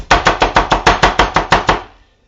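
Heavy chopping tool cutting kimchi ingredients, ten loud, evenly spaced thuds in a steady rhythm, close and forceful, then the last blow fades away.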